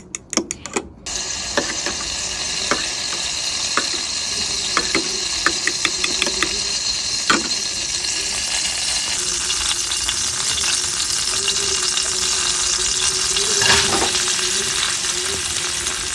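Curry powder mixture being stirred and frying in a pan, a steady sizzle with scraping strokes and a few sharp clicks near the start, close and continuous throughout.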